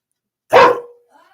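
A single sharp dog bark, loud and close, followed by quiet.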